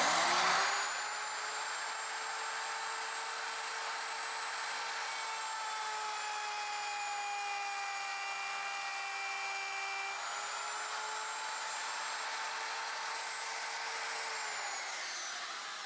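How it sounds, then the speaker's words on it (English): A wood router with a guide collar cuts along a straight edge for a platform bed, a steady high-pitched motor whine holding nearly constant for the whole stretch. "So what I'll do is I'll route this in an inch or so"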